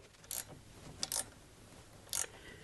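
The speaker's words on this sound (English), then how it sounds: "Next thing I'm going to do is I'm tightening the bolt on the back of the reed drive." A bolt being tightened on the back of a paramotor reduction drive, heard as three short, quiet metallic ratcheting bursts separated by pauses.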